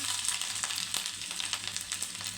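Cashew nuts sizzle in oil for a tempering for dadhojanam curd rice, a dense, steady frying hiss with occasional light stirring clicks, close up.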